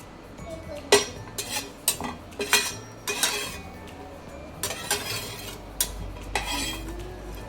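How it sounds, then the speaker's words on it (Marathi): Coconut being dry-roasted and stirred in a pan for an egg masala, with repeated metallic scrapes and clinks of a spoon against the pan coming in uneven strokes, close and fairly quiet, with no talking. "आपण खोबरं भाजून घेऊया"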